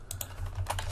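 A short, quiet burst of typing on a computer keyboard, a few close key clicks in quick succession.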